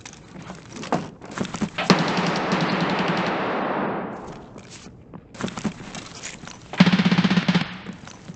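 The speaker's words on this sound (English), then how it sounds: "I hear gunshots in the distance" Bursts of rapid gunfire crackle at a distance in the video game Escape from Tarkov, on the Factory map, separated by quieter stretches, with a sustained wash of noise in the middle and a few footstep-like thuds.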